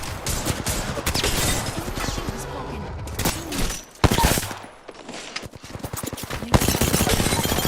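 A shotgun in Apex Legends fires over and over in quick, loud blasts, with a clustered burst early on, a short lull, and then a tight run of rapid shots near the end.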